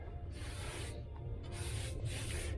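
Block sanding a hail-damaged 2009 Mustang body panel with 80 grit sandpaper: steady, close abrasive rubbing in long back-and-forth strokes, with brief pauses between passes.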